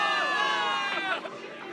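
Crowd of soldiers in the video game Zenless Zone Zero cheering for victory in New Eridu, a dense, steady roar of many voices close up, swelling briefly and then slightly thinning.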